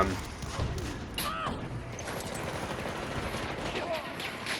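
Rapid gunfire from a corridor-focused weapon in a first-person shooter game, sustained bursts and crackling shots under a busy game mix, with a metallic ring near the start.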